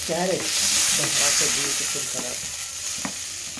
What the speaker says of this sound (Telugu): ఇది జర మంచిగా నూనెలో ఫ్రై కావాలి,